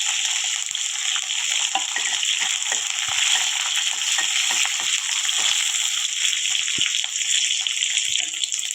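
Mustard seeds and curry leaves fry in hot oil with a steady, bright sizzle that runs throughout, scattered with small irregular pops and crackles close by.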